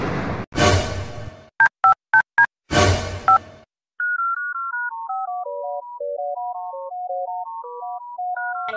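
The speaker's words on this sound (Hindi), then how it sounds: "देख लो कॉलर ट्यून लगी" A mobile phone call starts with keypad dialing beeps and clicks, then a synthesized electronic caller tune plays as a steady stepwise melody of pure tones, loud and close, with no voices.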